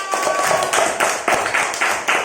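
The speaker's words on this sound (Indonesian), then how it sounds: "Tepuk tangan untuk kelompok 3." Second-grade pupils in a primary school classroom clap for a group, fairly loud and close, falling into a rough rhythmic beat of repeated hand claps over two seconds.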